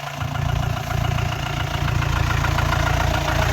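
Mahindra Jeep CJ 500 MDI diesel engine idling steadily up close, a low, even rumble with a faint rhythmic knock running throughout, no talking.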